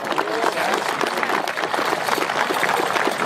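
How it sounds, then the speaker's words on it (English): Audience at a youth football medal ceremony gives steady, dense applause throughout, fairly loud and unbroken. "Let's give a warm round of applause as we commence the medal ceremony."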